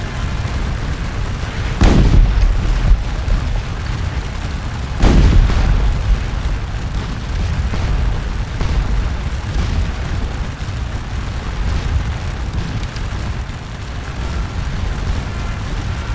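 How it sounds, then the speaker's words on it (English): Musket volley fire in the Scourge of War Waterloo game: two heavy booming volleys a few seconds apart, each with a rolling tail, over a constant low battle rumble. "Let's see what the volley fire does."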